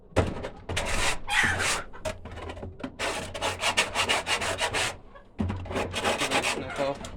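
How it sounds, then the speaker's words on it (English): A hand scraper rasps across the wooden floor and walls of a chicken enclosure in repeated close, rough strokes, with one brief pause partway through. "You can also use the scraping brush."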